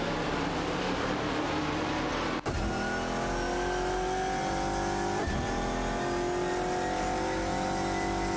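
Racing game cars in high-performance vehicles fighting closely for twelfth position: a constant loud engine drone with climbing revs, cut by two brief dips where the pitch drops and builds again, no talking.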